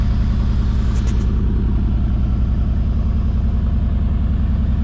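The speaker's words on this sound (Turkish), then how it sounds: "Şu sesi duyuyorsunuz mu? Ama AMG bu." A Mercedes-AMG G63 engine idles steadily nearby, a low throbbing rumble through four exhaust pipes that stays constant throughout with no voices.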